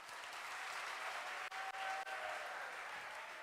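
Steady applause from a classroom of students fills the room, dense and continuous with a couple of brief dips, no talking over it.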